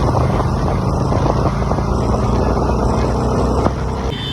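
A motorbike riding on an open road in cool weather near Doiwala, Haridwar, its engine droning steadily and loudly beneath heavy rushing wind noise, continuous throughout.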